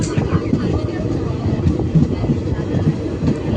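Low rumbling of a moving train at Santalpur railway station, with rhythmic clatter from the wheels, steady and close.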